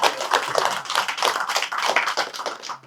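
A small group claps in a rapid, uneven patter that continues for a few seconds before fading out.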